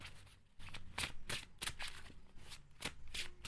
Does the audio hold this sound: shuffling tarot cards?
yes